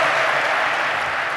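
Audience applause fills the hall at HubSpot Inbound 2014, a dense, continuous clapping that stays loud and steady throughout.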